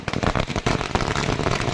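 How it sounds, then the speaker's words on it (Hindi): Fireworks and firecrackers go off at a celebration in Jharkhand, a dense, loud barrage of overlapping bangs and crackles that continues without pause and drowns out everything else. "आतिशबाजी हो रही है, जश्न मनाया जा रहा है"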